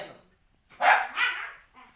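A dog barks close by in two quick loud barks with a fainter yelp just after, heard alone with no talking.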